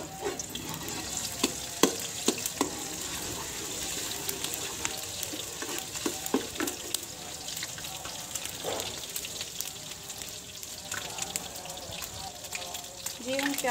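Ginger garlic paste frying in hot oil in a home kitchen, a soft continuous sizzle with scattered crackles and occasional stirring scrapes, faint and steady throughout.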